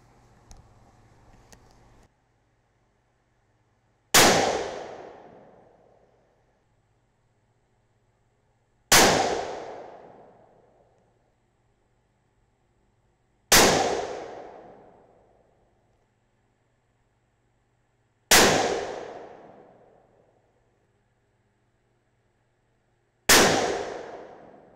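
Five loud, sharp .22-250 Remington rifle shots firing 50gr Nosler BT bullets over Varget powder, evenly spaced about five seconds apart, each a crisp crack with a decaying ring, after brief quiet handling noise.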